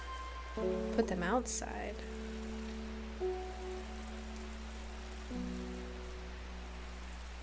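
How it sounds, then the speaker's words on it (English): Rain falls as a soft, steady hiss on surfaces in the video game Strange Horticulture, faint and continuous under a person talking and light musical tones. "it is raining outside"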